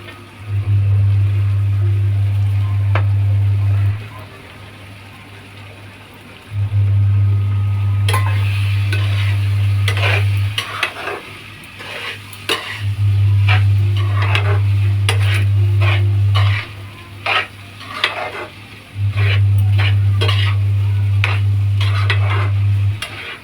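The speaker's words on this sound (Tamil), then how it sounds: "இப்போ அவல் போட போகிறேன். போட்டு பரட்டி எடுக்க போகிறேன்." Poha (flattened rice) being stir-fried in a pan, with scraping and clattering strokes of a spoon against the metal, close and busy, under a loud intermittent mechanical hum that cuts in and out.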